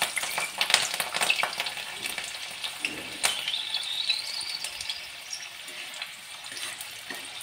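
Whole fresh green chillies fry in hot oil, giving a steady close sizzle with scattered sharp crackles and pops throughout, and no voices.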